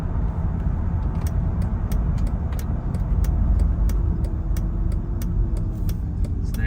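A 2006 Mercedes SLK350 with 16,000 miles driving on the road, its engine and tire noise forming a steady, moderately loud rumble with faint ticking clicks running throughout.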